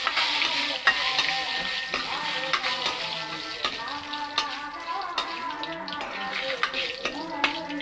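Panch phoron, dried chillies and torn bay leaves sizzle in hot oil, a steady crackling hiss with scattered pops and occasional clinks of a stirring utensil, fairly close.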